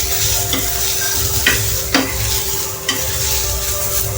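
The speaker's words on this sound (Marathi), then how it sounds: "तर आपण कांदे ब्राऊन करून घेऊया छानपैकी." Onions frying in a pan until brown for a fish curry, a continuous close sizzle with a few light stirring scrapes and clicks, no talk.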